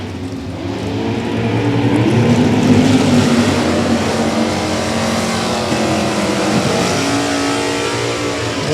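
A Vega and a Camaro drag race with loud, sustained engine roars. The revving pitch sweeps up and down as the cars accelerate, close and dominant throughout.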